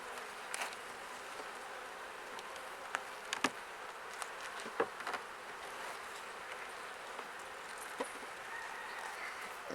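A dense, steady hum of many honey bees buzzing inside a seven-frame hive being set up for winter, fairly quiet, with occasional soft knocks and clicks.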